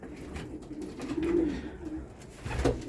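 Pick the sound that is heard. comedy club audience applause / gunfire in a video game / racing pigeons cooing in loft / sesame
racing pigeons cooing in loft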